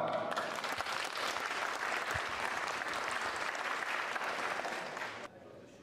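Applause from attendees at a school handball teachers' conference after a one-on-one game exercise, a sustained burst of many hands clapping that stops abruptly near the end, leaving quiet room tone.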